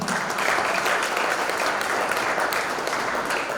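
Audience at an education gala in Mississauga applauding, a full, even roar of many hands clapping that stays constant from start to finish with no voices on top.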